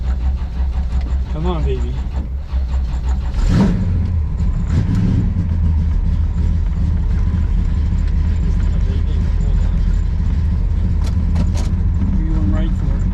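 A car's engine cranks and catches, then settles into a rough, loud idle with a few revs, close up, while people talk briefly over it.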